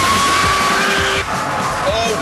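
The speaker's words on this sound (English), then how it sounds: "you can turn the system off altogether. In which case you'll corner like this." A Ferrari 599 corners with its stability system switched off, tires squealing in drawn-out, wavering tones over the car's noise while someone talks.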